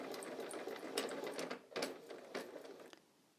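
A sewing machine stitches fabric in several short, close bursts, its needle chattering rapidly before slowing and stopping near the end.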